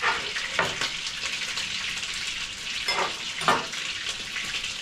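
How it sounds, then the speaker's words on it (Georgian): Chicken pieces fry steadily in a pan with onion and garlic, a continuous bright sizzle with a few louder bursts as the food is stirred, close and without talk. "მეორე პირმა დაიწყოს ხავთან და ნიორთან ერთად ჩათუშვა და მერე დაბრაწვა"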